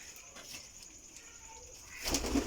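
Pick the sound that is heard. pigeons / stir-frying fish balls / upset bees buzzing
pigeons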